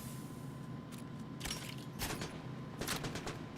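Gunfire in the Fortnite video game, with several short bursts of shots at moderate loudness over a low steady game background, no voices.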